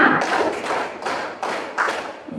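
A high school class in Purworejo claps a rhythmic pattern together, several crisp, fairly loud group claps in quick succession with little talk between them.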